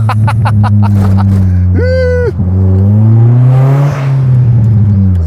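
A Kia car's engine revs as the accelerator is pressed, a loud droning hum rising and holding in pitch inside the cabin, with a brief whine partway through.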